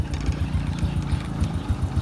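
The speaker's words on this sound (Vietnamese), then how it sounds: "máy nổ cái âm ty rất là đã" A 2002 Honda Dream II motorcycle engine idles close by, a steady low rumble with regular rapid pulsing thumps throughout.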